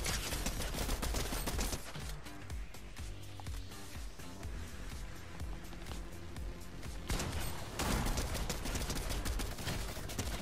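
Rapid bursts of gunfire and automatic weapon fire in the video game Fortnite, loud and dense across the whole stretch with brief lulls, no talk.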